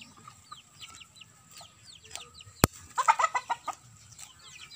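Chickens cluck in a short burst of rapid calls near the end, after a sharp knock, with scattered chirps and clucks from a flock earlier at moderate distance.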